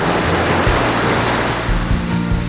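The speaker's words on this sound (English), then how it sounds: "Kids, can you hear the waves in the background?" Ocean surf breaking on a sandy beach, a loud continuous wash of waves close by with low rumbling swells, no voices over it.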